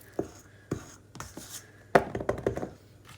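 A spoon or whisk knocking and scraping in a bowl while brown butter cookie batter is mixed, a few separate clacks followed by a quicker run of taps, close and fairly quiet.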